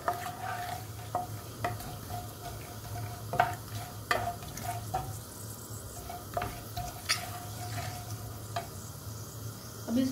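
Urad dal frying in a pan while a spoon keeps stirring it, soft sizzle under repeated sharp scrapes and clicks of the spoon against the metal, irregular and close, over a low background hum.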